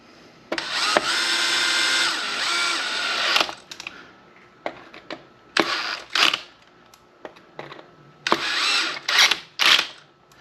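Bursts of a power screw gun driving screws into the plastic of an Arrma Big Rock 6S RC truck, a long whir first, then several short zips and quick triggers, close and loud.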